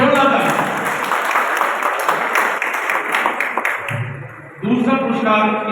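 An audience at a Haryana award ceremony honouring writers gives loud, sustained applause for about four seconds. The clapping fades as a voice begins speaking over the room.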